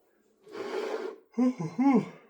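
A person yawns late at night, a long breathy inhale followed by a drawn-out voiced, wavering exhale, close and fairly quiet in an otherwise silent room.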